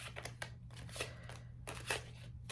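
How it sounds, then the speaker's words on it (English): A deck of playing cards is shuffled by hand in quick, soft riffling bursts, close and quiet, with short pauses between them. "I don't usually shuffle with the cards facing me."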